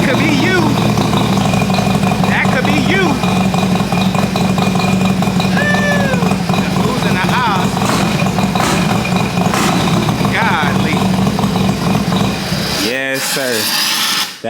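A car engine idles steadily for a long stretch in a garage on Texas land, with a voice talking over it, then cuts off abruptly near the end.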